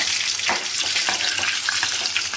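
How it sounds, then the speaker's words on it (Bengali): Potatoes frying in hot oil in a pan for Kashmiri dum aloo, a steady close sizzle with occasional crackles and stirring scrapes. "আর এইদিকে আমি আলুটাকেও লাল লাল করে ভেজে নিচ্ছি"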